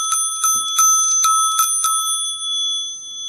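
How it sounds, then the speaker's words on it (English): A payphone bell ringing in rapid repeated strikes, a bright metallic ring pulsing about eight times over two seconds before fading into a sustained tone, heard alone and close. "That's a bell."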